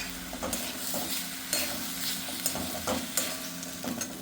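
Slit green chilli and halved tomato frying in a pan for a Bengali fish curry, a steady sizzle with a regular series of spatula scrapes and taps, close and without speech.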